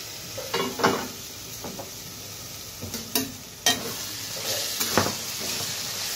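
Spiced squash ghonto masala sautés in an uncovered pan, a soft background sizzle punctuated by irregular clinks and scrapes of a spoon stirring against the metal, close by and without speech.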